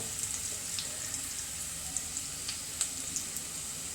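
Tomatoes hitting a hot pan for paneer butter masala, giving a steady, quiet sizzle with occasional light crackles and pops, close by and without speech.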